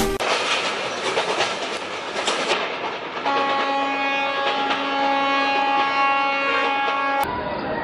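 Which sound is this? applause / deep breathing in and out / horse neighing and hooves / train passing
train passing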